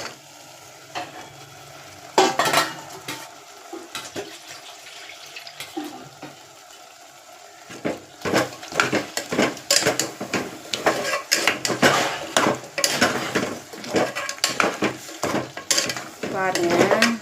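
Spiced goat leg pieces stirred and turned in a hot pan, with a continuous sizzle under irregular scraping and clattering strokes that grow busier and louder after the first few seconds, close by, with no talking.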